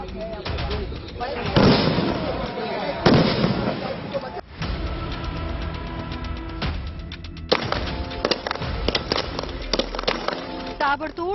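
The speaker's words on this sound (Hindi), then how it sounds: "ताबड़तोड़ बरसती गोलियां" Rapid bursts of gunfire crack out repeatedly during an NSG commando demonstration, with dense volleys and isolated loud shots over a sustained stretch, mixed with background noise from the outdoor event.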